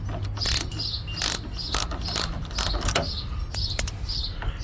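Ratchet driving Torx screws out of a battery isolator and tailgate strap mount, giving rapid repeated clicking bursts close up with a steady low hum underneath, no talk.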